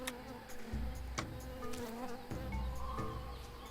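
Steady buzzing of bees continues throughout in Tales of Monkey Island, with occasional clicks and thuds over a low rumbling background.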